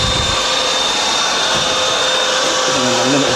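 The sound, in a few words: vacuum cleaner running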